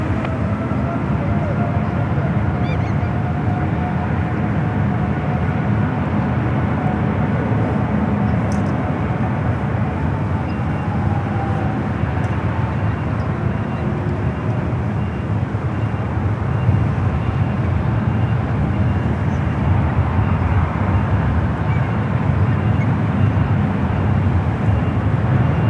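Airplanes landing at San Francisco airport, with a broad, continuous jet roar and wind rumble heard from a distance over the whole stretch, and radio voices talking underneath.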